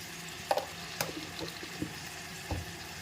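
Spices are stirred into marinated meat in a pan, with a faint, soft sizzle and a few light scrapes and taps from a spoon, heard up close but quiet.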